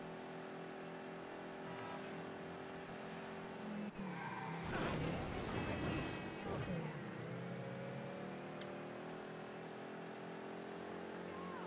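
An old, battered car is driven in the video game Mafia 3, with a steady engine drone, then a louder burst of revving and tire skidding around the middle before it settles back to a cruising hum.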